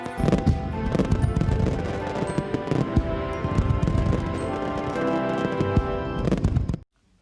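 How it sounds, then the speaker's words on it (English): Fireworks in a Thomas the Tank Engine Halloween episode: a dense, continuous barrage of rapid crackling bangs mixed with a loud musical score. The bursts stay steady for about seven seconds and then stop abruptly. "We can watch the fireworks just as well from here."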